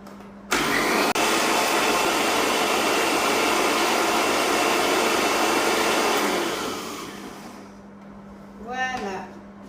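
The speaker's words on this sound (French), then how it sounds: "je vais venir mixer" A kitchen blender purees a sauce for a confit pollock dish with a loud, steady motor whir that starts abruptly, holds for about six seconds and then winds down. A brief voice is heard near the end.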